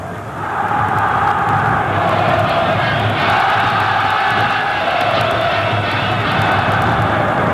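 A large crowd of Vasco da Gama supporters roaring and cheering inside a football stadium during a Flamengo match, a loud, sustained wall of voices swelling after the opening moment and holding steady.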